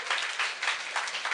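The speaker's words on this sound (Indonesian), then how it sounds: "Berikan tepuk tangan bagi Tuhan kita" A church congregation applauds, and the dense, steady clapping from many hands swells and dips slightly over a brief moment.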